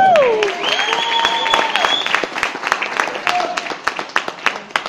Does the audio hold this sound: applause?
yes